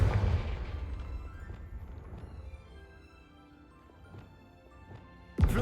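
The Confringo blasting spell goes off in the video game Hogwarts Legacy: a heavy explosion rumbles and decays over a few seconds, followed by a sharp second burst near the end.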